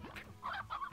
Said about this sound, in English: There was a hen right there.